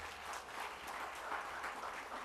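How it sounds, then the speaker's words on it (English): A crowd at a graduation ceremony applauds, a dense, even wash of clapping that stays faint and distant for the whole stretch. "I think it deserves a round of applause."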